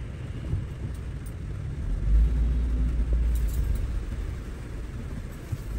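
Road traffic passing in heavy rain in San Diego, California: a loud, steady wash of rain hiss over the deep rumble of vehicles, swelling as one passes close by midway.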